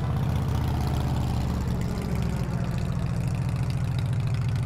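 A motorcycle engine runs steadily nearby, a loud continuous idling rumble with an even low throb and no talk, heard outdoors in a backyard.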